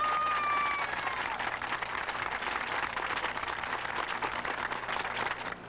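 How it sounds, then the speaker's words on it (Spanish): Steady crowd applause fills the space for several seconds at a public ceremony handing over the first house keys to members of a housing cooperative, dense and continuous with a brief tonal whistle or voice near the start. "¡Un aplauso!"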